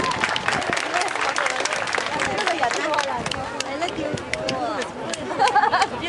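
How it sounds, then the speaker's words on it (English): A crowd at the CNE fair cheers and claps for a soldier finishing a high-line descent, dense scattered applause mixed with chatter and a few shouts, fairly close and sustained. "Everybody give Darwin a cheer."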